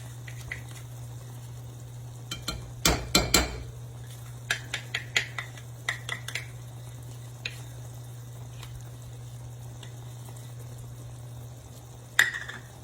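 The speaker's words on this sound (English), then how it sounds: "this is where we will stir in our 1/2 cup of peanut butter." Spoon clinks and scrapes against a pot as peanut butter is stirred into no-bake cookie mixture, a cluster of sharp taps early on, then scattered knocks over a steady low kitchen hum.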